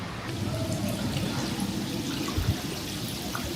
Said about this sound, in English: I love the sound of just water dripping